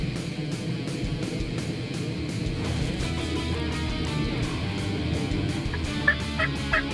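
Osceola wild turkey gobbling during a South Florida hunt, heard against steady outdoor background noise with faint bird calls, distant rather than close.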